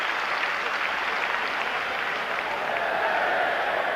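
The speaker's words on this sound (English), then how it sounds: "the crowd give him the kind of reception he deserves for the way he's battled back" A football crowd at Everton's ground applauds a substitute coming on, a steady, loud wash of clapping and cheering that fills the whole stretch without a break.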